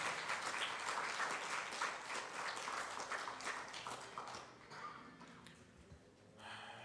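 A church congregation applauds steadily as an offering of praise, the clapping dense at first and then thinning and fading, quiet and somewhat distant.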